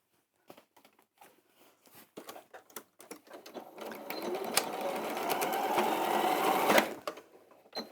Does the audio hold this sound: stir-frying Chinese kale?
no